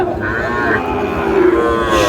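A long, loud low moo from a nearby cow at a livestock market in Narsingdi, Bangladesh, with a busy crowd murmuring in the background.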